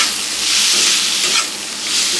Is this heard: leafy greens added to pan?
yes